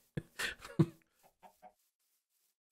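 Chickens in Minecraft cluck in a few short, close bursts, a louder cluster first and then softer, scattered clucks trailing off into quiet.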